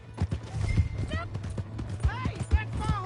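Hooves clop rhythmically as a horse gallops in Red Dead Redemption 2, with a whinny and repeated hoof beats near the listener, under overlapping in-game voices and shouting.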